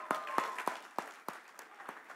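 Audience at an awards show clapping, heard as a sparse, fairly faint run of individual handclaps spaced through the moment rather than dense applause.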